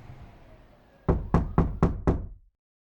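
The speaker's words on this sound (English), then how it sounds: "I knock on the door." Five firm knocks on a door come in a quick, even rhythm, loud and close, then stop abruptly into silence after a faint hum.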